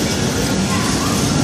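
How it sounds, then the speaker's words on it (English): An old diesel train pulls into Holguin station in Cuba, a dense, loud rumble of engine and rolling wheels with a rattling clatter that fills the whole short stretch. "Train coming into Holguin,"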